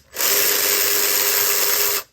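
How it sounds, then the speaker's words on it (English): An electric drill whirs loudly and steadily for about two seconds while backing out bolts on a Buick Enclave upper torque strut mount, starting and stopping cleanly with no talk. "the electric drill."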